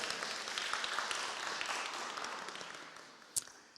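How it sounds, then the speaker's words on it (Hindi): Soft, steady applause fills a church during a Friday prayer meeting of an Asian fellowship, a wash of many hands clapping at a moderate distance, with one sharper clap near the end. "जोरदार तालियां जी।"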